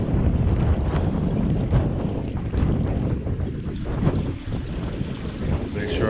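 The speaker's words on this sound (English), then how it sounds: "It's super windy out here." Strong wind buffeting the microphone in heavy low rumbling gusts, with water sloshing faintly underneath.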